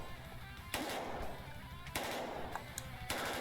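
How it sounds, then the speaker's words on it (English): Rifle shots crack out in a visual novel scene, three sharp loud bursts spaced about a second apart, each followed by a ringing echo over a low background rumble. "Several rifle shots echoed from their left just then."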